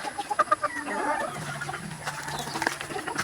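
Roosters and a hen cluck at morning feeding time, giving several close, short calls at the start, then softer fowl sounds and rustling under a steady background murmur.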